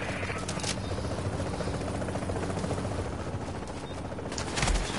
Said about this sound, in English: Chopper is inbound. There's an extraction arriving there.